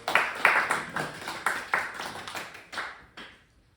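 A small group claps at a Korean church school training session in a series of sharp, close bursts that fade out toward the end.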